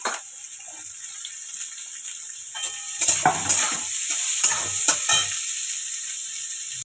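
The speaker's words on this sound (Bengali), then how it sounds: "সবজিগুলি ভেজে নেব একসঙ্গে ভেজে নেব" Chopped vegetables are fried in ghee with cumin for fried rice, a steady sizzling hiss that gets louder when the vegetables go in, with scraping stirs partway through.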